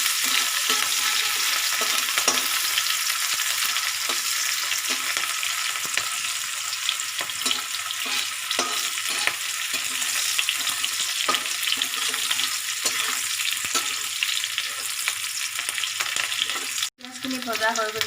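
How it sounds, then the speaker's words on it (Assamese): Onions fry in hot oil left over from frying fish in a wok, a loud, continuous sizzle with occasional stirring clatter, heard on its own without talk. "এতিয়া মই তেলত পিঁয়াজ দি দিছোঁ।"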